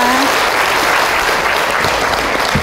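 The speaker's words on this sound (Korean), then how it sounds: "여러분 박수 한번 주세요." A room full of people applauding steadily, dense continuous clapping at full volume for the whole stretch with no voices on top.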